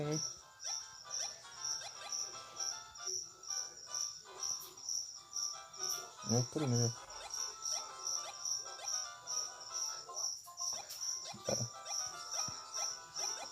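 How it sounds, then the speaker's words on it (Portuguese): Crickets chirping frenetically at night, a dense high pulsing trill throughout, loud and continuous, while someone talks over it in Portuguese and a dog's bark briefly cuts in. "Os grilos tão frenéticos."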